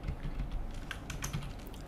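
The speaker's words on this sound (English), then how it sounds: "type your company code, press enter" Fingers type on a computer keyboard, a soft steady patter of key clicks heard close by with no talking.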